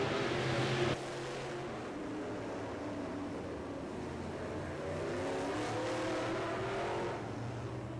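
Race cars circle a short dirt or paved track during a heat, a steady wash of engine roar from several cars at a distance, rising and falling slightly as they pass, with no speech.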